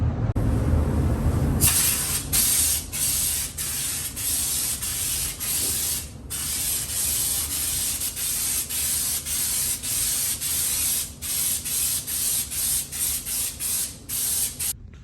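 A paint spray gun lays black sealer onto the fender jambs and wheelhouses of a C10 pickup, giving a loud, close, continuous hiss broken by frequent brief pauses as the trigger is released and pulled again.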